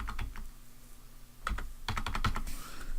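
Typing on a computer keyboard in quick bursts of crisp key clicks, close and clear, with a short pause before a denser run of keystrokes.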